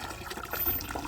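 Water pours and trickles over a dog named Hachiro during a bath, a soft, steady splashing stream lasting about a second with no talk over it.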